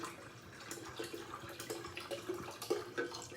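Red wine glugs and splashes from a bottle into a sangria pitcher, a wet bubbling pour running steadily for a few seconds at close range.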